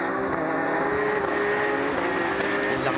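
Porsche Carrera Cup race cars accelerate hard at a restart at Imola, a dense roar of several engines droning together at steady loudness, fairly close, with a faint rising pitch toward the end.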